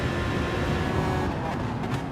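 A McLaren race car in GT Sport drives with a steady engine drone and road roar at close range, constant through the short stretch without clear gear changes.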